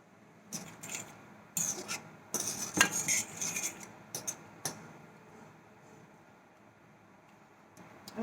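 Potatoes being stirred in a pot, with spoon and utensil scrapes and clinks against the pot coming in irregular bursts, louder in the middle and trailing off into quiet near the end.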